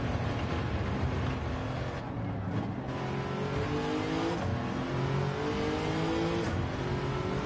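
A Nismo Z Tune R34 with a swapped engine accelerates in Gran Turismo 7, a steady rising engine whine with gear-change dips and faint tire noise, fairly quiet and with no voices.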